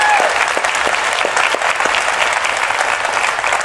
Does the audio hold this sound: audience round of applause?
yes